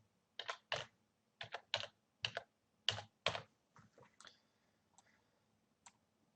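Keys clatter on a computer keyboard as a profile name is entered, a quick run of close, crisp clicks in short bursts that thin out into a few scattered taps at the end, with no voice.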